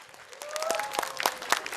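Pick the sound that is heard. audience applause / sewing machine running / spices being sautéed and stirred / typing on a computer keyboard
audience applause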